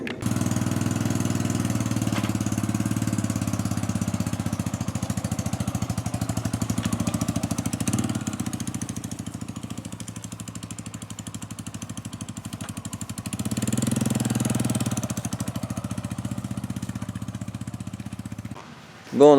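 A Yamaha YBR motorcycle fitted with a performance exhaust runs steadily with a loud, buzzy drone and a rapid rhythmic pulse. It swells briefly as the revs rise midway, then settles back.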